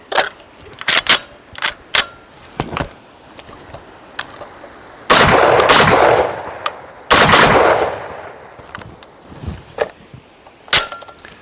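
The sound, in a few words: FAL rifle firing rounds at 15 meter target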